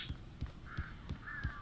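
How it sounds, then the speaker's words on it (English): Crows caw repeatedly in the Alan Wake video game, harsh calls mixed with regular low thumping pulses about every third of a second, a faint, eerie flock sound with no talking. "Oh, that's a lot of crows."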